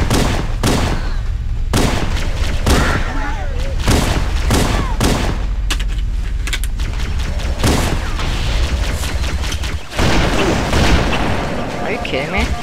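Rapid gunfire from Halo: Combat Evolved, with repeated sharp shots and booming blasts in bursts throughout, loud and close, mixed with game effects and occasional voices.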